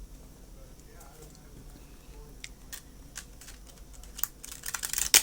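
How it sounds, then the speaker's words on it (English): A tarot card deck is side shuffled by hand, with quiet papery ticks and slaps that grow quicker and louder toward the end over low room noise. "Or let me try the side shuffle."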